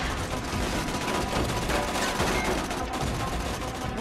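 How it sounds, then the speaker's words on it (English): Continuous rapid gunfire from Tales from the Borderlands, bursts of automatic shots crackling and overlapping throughout as enemies keep shooting, dense and fairly loud with no speech over it. "Oh, they're still shooting at us."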